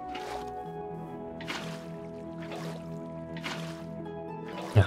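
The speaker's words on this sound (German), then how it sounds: "Fülle natürlich erstmal alles fleißig mit Wasser auf." Water blocks splash and pour in repeated bursts as they are placed to fill farm terraces in Minecraft, roughly four gurgling, dripping waves at steady intervals, with a brief louder knock at the end.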